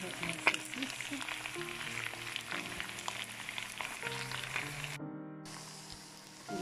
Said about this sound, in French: je vais rajouter mes oignons. On va les faire un peu avec mes saucisses